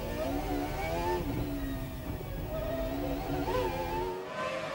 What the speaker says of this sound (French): À bord de la McLaren de Coulthard